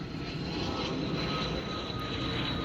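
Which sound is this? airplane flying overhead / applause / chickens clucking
airplane flying overhead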